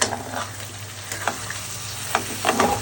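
Curry sautéing in a pan near the end of browning, with a steady low sizzle broken by several short scraping stirs of a spoon against the pan.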